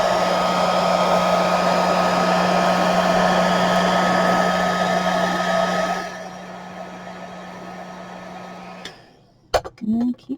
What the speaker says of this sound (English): Maybe hold the heat gun further away.